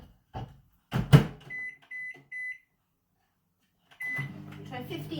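A microwave oven heating eggs in a poacher: clunks of the door and handling, then three short beeps, and after a pause a low steady hum of the running oven begins, with a voice talking briefly near the start.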